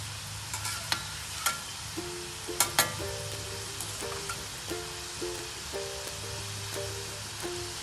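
Modak deep frying in hot oil, giving a steady bubbling hiss with scattered sharp clinks and light utensil knocks on top, close by and with no speech.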